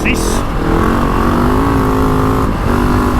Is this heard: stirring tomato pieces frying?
no